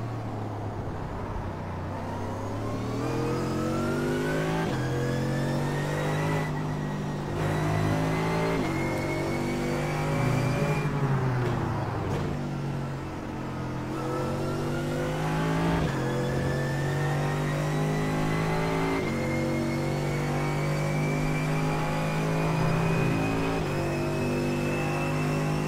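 A Mercedes AMG GT3 race car in iRacing at Interlagos, its engine note climbing steadily through the gears, with brief shift dips and renewed revving, loud and continuous on its own.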